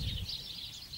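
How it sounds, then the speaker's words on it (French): Birds chirp and sing faintly in the countryside near horse pastures, a quiet continuous twittering over a soft low rumble. "On entend les oiseaux."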